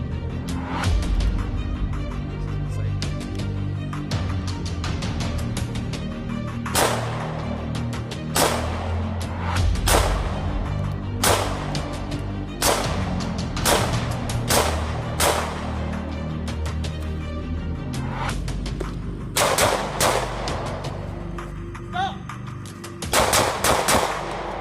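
Sharp, loud gunshots from a Smith & Wesson M&P Shield 9mm pistol with thumb safety, fired in irregular bursts and single cracks over about twenty seconds, close by and with no talking.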